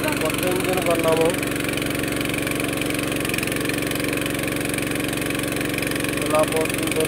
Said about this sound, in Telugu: చూడండి, కొత్త ఇంజిన్ కొన్నాము.